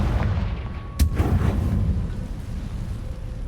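A fire curse spell bursts with a sharp boom in a wizard video game, one sudden blast followed by a crackling, rumbling tail over a steady low background.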